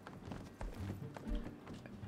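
Horse hooves clip-clopping in the survival game Rust, a run of quick, fairly soft thuds under faint background noise.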